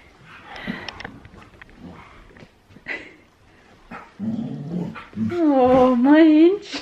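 A dog whimpers, growls and gives short excited vocal noises close by, ending in a loud, drawn-out whining howl, mixed with a person talking.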